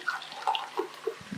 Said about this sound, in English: So we add 4 cups of water.